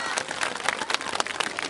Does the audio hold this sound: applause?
yes